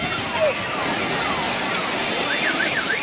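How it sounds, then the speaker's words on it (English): A giant wave crashes and drags an SUV through the water on the Chilean coast, heard as a continuous, fairly loud surging rush of water with faint warbling alarm-like tones. "a giant wave knocked the vehicle over and dragged it through the water"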